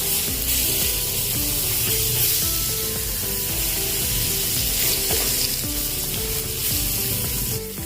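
Paneer sizzling and frying in hot oil for a restaurant-style paneer lababdar, a steady loud crackle with busy spitting throughout and occasional stirring clinks, no voices.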